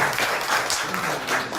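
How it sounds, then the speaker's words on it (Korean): Audience applause fills a classroom-style session, steady and fairly close, with a brief burst of clapping and no talk. "큰 박수 부탁드립니다."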